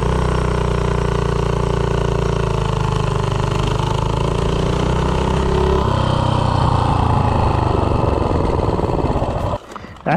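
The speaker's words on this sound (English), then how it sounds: "this bike gets to 0 to 30 pretty quick" A minibike with a Predator engine and stock ignition coil revs up from a standstill toward 30 mph, its small engine droning loud and steady while the pitch climbs, then it cuts off abruptly at the end.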